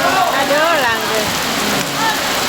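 Heavy rain pours steadily over an open village football pitch during a match, a dense, loud hiss filling the scene with faint voices over it.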